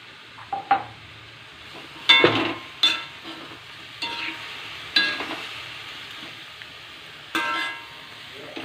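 A jackfruit stir-fry is stirred in a pan, giving several loud, sharp scrapes and clanks of a utensil at irregular intervals over a low sizzle, with some talk in the background.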